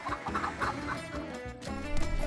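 Chickens cluck at a chicken seller's stall in a busy market, a run of quick, close clucks over a dense bed of background noise.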